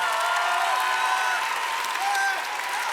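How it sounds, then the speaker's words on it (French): Ceremony audience applauding, a dense steady clapping wash with a faint whistle-like tone riding over it, continuous for the few seconds. "On peut les applaudir très fort."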